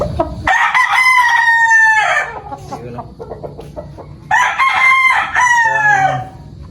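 An imported pure black gamefowl stag crows twice, loud and close, with a short gap of scattered clucking and farmyard noise between the two drawn-out crows.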